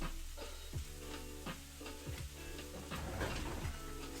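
Onions frying in a pan give a steady close sizzle, broken by regular scraping knocks as they are stirred around.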